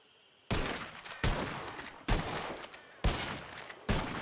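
Five loud rifle shots from a western roleplay video game, fired at target trees, crack out one at a time at a steady pace with brief echoing tails and no talking between them.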